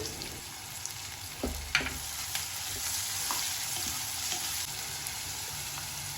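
Food sizzles steadily in a hot frying pan while a utensil scrapes and stirs a few times, sautéing for a pea and potato curry, with no talking.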